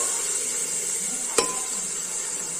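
Whole cumin seeds frying in hot oil for a Bengali dalia khichuri, giving a steady bright sizzle throughout with one sharp utensil tap near the middle.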